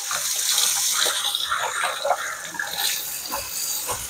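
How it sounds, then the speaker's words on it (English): Tap water runs steadily as fresh parsley leaves are rinsed under it in a kitchen sink, with an irregular splashing and gurgling that shifts as the leaves move through the stream. "I'm going to rinse these off in the water."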